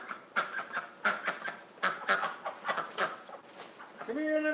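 Ducks kept at a hospital give a run of rapid, repeated honking quacks at close range, uneven in rhythm, ending in a longer drawn-out call.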